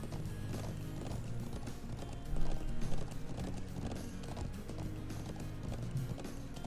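A horse gallops across a field in the Trails of Cold Steel video game, steady hoofbeat clip-clop at a moderate, quiet level with faint game background sound.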